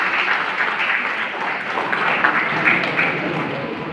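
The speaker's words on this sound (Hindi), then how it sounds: "इनके लिए जोरदार तालियां" A crowd claps for a student being honoured at an award ceremony, a steady moderate wash of applause lasting a few seconds.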